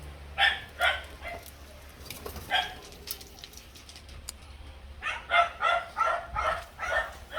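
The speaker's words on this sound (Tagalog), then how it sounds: "Itong aso." A pet dog at a family home barks in short repeated bursts: a quick pair at the start, a lone bark mid-way, then a steady run of loud, close barks toward the end.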